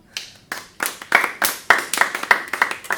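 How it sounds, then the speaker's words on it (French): A few people clap in separate, uneven bursts that quicken into a brisk, close patter of sharp hand claps toward the end. "Bravo, bravo, j'applaudis"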